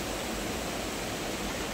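Heavy water rushes over a dam in rainy Konkan country, a steady, dense, unbroken roar filling the sound with no other voices or events.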